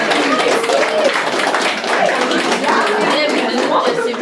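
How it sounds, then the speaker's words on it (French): The crowd at a school sports awards gala applauds, with lively, close clapping that continues steadily for several seconds and some voices faintly mixed in. "Je pense qu'on peut les applaudir."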